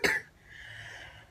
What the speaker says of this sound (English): famous cough